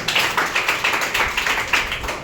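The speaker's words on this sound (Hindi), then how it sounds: "इसके लिए भी ताली बजाइए।" Class 9 students applaud in a classroom, a short burst of roughly even, close hand claps lasting about two seconds.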